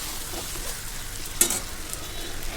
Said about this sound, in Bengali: এইভাবে আমি ধীরে ধীরে কষিয়ে নেব